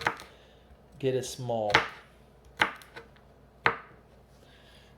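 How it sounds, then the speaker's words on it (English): A knife chops garlic on a cutting board for guacamole, with a few sharp, isolated thuds spaced about a second apart, close and moderately loud, alongside brief speech. "That's going to be the garlic. All right, now we're going to cut this up."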